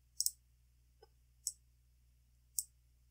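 A computer mouse clicks three times: crisp, close, isolated taps spaced about a second apart, with a faint low hum underneath and a tiny soft tick between the first two.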